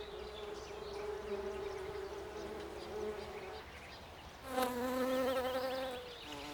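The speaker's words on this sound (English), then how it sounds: "With the wildflowers in full bloom, the honeybees are hard at work in the meadows." Honeybees buzz among blooming wildflowers in a meadow, a steady droning hum that swells as a bee passes close near the end.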